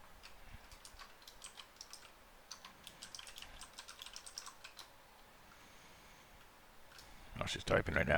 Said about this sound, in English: Oh, she's typing right now.